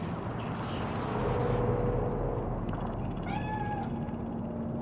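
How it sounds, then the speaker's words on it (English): A cat in the video game Cyberpunk 2077: Phantom Liberty lets out a single clear meow near the end, heard over a dense, steady bed of city ambience and low rumble, with no one speaking. "Do you see it? That cat?"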